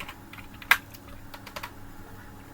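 Keystrokes on a computer keyboard as code is typed, a short burst of soft clicks with one sharper louder key tap near the start, then a few scattered lighter presses, close up and without speech.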